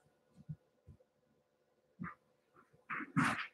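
A dog barks several times in short, irregular bursts at moderate distance, with quiet gaps between them.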